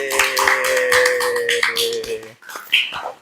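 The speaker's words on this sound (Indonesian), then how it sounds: "Kita tepuk tangan dulu." Classroom applause from a class of third-grade students, a dense burst of hands clapping that runs about two seconds under a sustained tonal sound, then thins to a few scattered claps.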